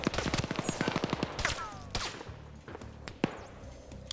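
Rapid bursts of .50 cal machine gun fire in a video game match, a quick rhythmic string of heavy shots early on, then scattered single reports and distant impacts as the shooting thins out.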